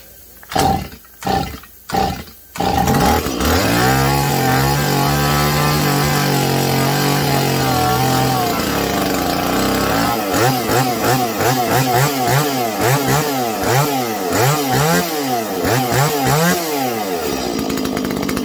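A chainsaw engine that has sat unused for a while sputters through a few short pull-start bursts, then catches and roars steadily, revving up and down in repeated surges, loud and close.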